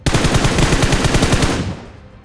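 Automatic gunfire in the BGMI mobile battle royale game, a loud rapid burst of close shots in quick rhythm that runs for about a second and a half before trailing off.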